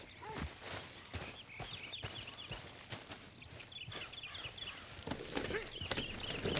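A large horse walks in the Red Dead Redemption 2 video game, soft steady hoof clip-clops at a relaxed pace under faint ambient outdoor sounds, with a little muffled talk.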